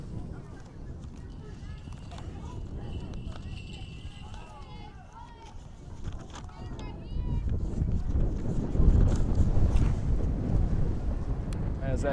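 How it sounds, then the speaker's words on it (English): Wind gusting across an outdoor college softball field during a game, a steady low rumble buffeting the microphone and growing stronger partway through, under an announcer's play-by-play. "As that wind kicks in from the outfield"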